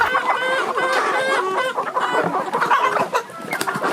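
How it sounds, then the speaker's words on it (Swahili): Improved kienyeji chickens cluck and chatter continuously on a farm, several birds calling over one another at close range with no talk. "Hawa kuku improved kienyeji"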